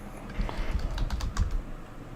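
Rapid, uneven keystrokes clatter on a computer keyboard for about two seconds, close and fairly loud, with a low background rumble and no talking.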